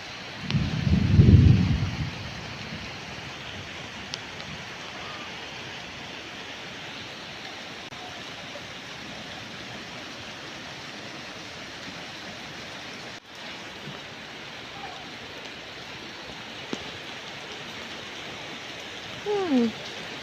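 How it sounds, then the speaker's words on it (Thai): Continuous heavy rain hiss fills the whole stretch, broad and steady, with a brief louder low thump near the start. "เวลาฝนตกเนี่ยฝนมาอีกแล้ว"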